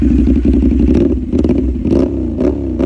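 A big-bike motorcycle engine revs loudly and close, its rough, throbbing idle rising and falling in pulsing bursts throughout.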